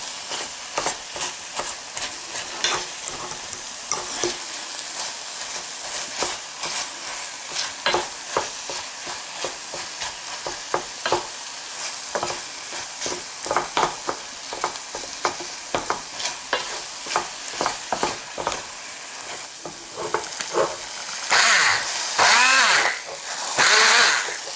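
Thinly sliced ingredients caramelize in a hot pan while a spatula stirs them, giving a steady sizzle broken by rhythmic scraping strokes that continue for the whole stretch and grow louder near the end.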